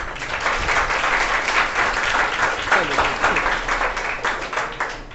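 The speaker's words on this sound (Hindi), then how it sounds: "देखो ताली बजा रहा है" A group claps steadily to welcome teams at a physics quiz in an academy classroom, dense continuous applause close by with faint voices underneath.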